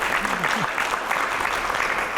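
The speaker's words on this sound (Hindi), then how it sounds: "पहले जोरदार तालियां हो जाए" Loud, continuous audience applause at a live interview event, a dense even roar of clapping with a voice briefly audible underneath near the start.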